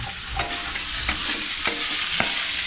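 Pork chicharon sizzles steadily in a pan while it is stirred, with a few distinct scraping strokes at regular intervals over the constant close frying hiss.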